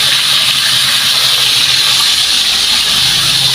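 Fish added to hot oil in a pan with vegetables gives a loud, steady, close sizzle, an unbroken hiss lasting throughout.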